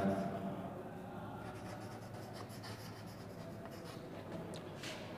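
Pen or chalk writing out a linear-pair angle step in a Class 7 maths lesson, a steady continuous scratchy rubbing that runs throughout at moderate level, close by, with no talk.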